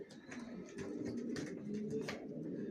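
Racer pigeon chicks in a loft cooing and murmuring, low soft coos with a few brighter chirpy calls mixed in, steady and close, no talking.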